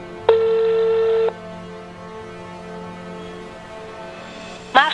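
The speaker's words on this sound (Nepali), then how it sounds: "अहिले पनि फोन उठाउँदैनन्।" An unanswered phone call to a swing-ride operator at a fair gives one clear steady tone for about a second, followed by quiet line noise and a short electronic chirp at the end.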